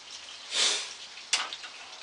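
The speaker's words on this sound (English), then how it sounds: "The rain has started hitting us pretty hard now." Rain falls on an allotment garden as a steady, faint hiss, swelling into a heavier gust of patter and then a sharp, brief splash of drops.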